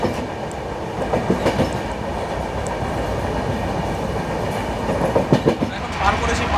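The Howrah–Bhubaneswar Janshatabdi Express runs on the rails through a curve, heard from inside as a loud, steady roar with rhythmic clickety-clack wheel beats growing more pronounced toward the end.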